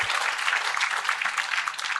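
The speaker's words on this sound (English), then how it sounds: "one more applause for Liesbeth and her amazing garden" An audience at an outdoor rooftop event gives a speaker a round of applause, a dense, even patter of many hands clapping steadily throughout, with no voices over it.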